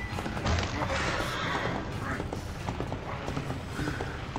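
Horse hooves clip-clop steadily as a horse pulls a carriage along a road in Prince of Persia: The Two Thrones, dense and busy with game rumble and thuds layered over the rhythmic hoofbeats.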